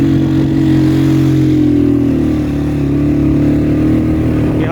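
A motorcycle climbs a dangerous rocky mountain route toward Katora Lake in Astore Valley, Pakistan, its engine droning loud and close with a steady low rumble and slight shifts in pitch throughout.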